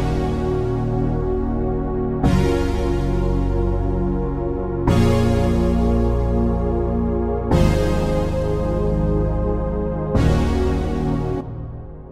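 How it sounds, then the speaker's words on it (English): Full Zouk-style Logic Pro X arrangement layering bright synth, analog waves and classic piano over bass, a dense sustained harmonic wash that restarts with a fresh chord attack about every 2.6 seconds, loud and steady with no talking. "and now together with the bright synth, analog waves, and classic piano, it all sounds like this"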